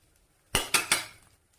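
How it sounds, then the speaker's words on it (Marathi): Cashew and almond slices dropped into a spoonful of hot ghee in a pan give three quick clattering impacts in succession, close and crisp, with no talk. "हे काजू आणि बदामाचे काप यामध्ये टाकून घ्यायचे"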